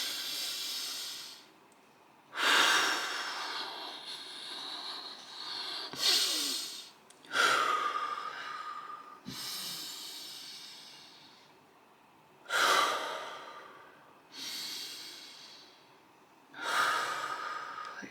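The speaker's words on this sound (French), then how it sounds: "et je reviens à la respiration." Slow, deep breaths close to the ear, with long airy inhales and exhales alternating in an unhurried rhythm with quiet pauses between, heard alone with no talk.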